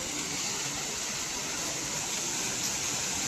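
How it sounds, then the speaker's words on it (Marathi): A monsoon waterfall near Lonavala, heard as a continuous, even roar of rushing water filling the whole scene, steady and close with no pauses. "जिवंत धबधबा पावसाळ्यात जिवंत"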